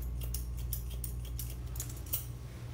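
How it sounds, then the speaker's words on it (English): Scissors snip repeatedly through hair during a DIY point-cutting haircut, a quick run of crisp close-up clicks and shears with a low steady hum beneath. "And then we're just gonna point cut again like so."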